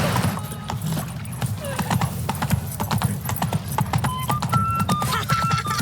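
Roach, Geralt's horse in The Witcher 3, gallops with steady, rapid hoof clip-clops over a continuous game score, close and loud, with a brief whinny-like tone partway through.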